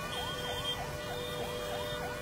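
A fire brigade truck's siren wails in repeating rising-and-falling sweeps, loud and close, with traffic rumble beneath it on a highway in Badlapur East where a chemical wastewater pipeline has burst.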